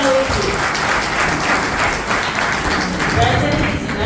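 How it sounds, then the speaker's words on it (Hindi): A room of attendees at a network marketing meeting claps together, a fairly close, busy patter of hands, while a voice speaks over part of the applause. "आप सबके लिए जोरदार तालियां।"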